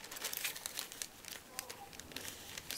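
Plastic bags crinkle and rustle in short, irregular bursts as they are placed over potted gloxinia plants, faint and close.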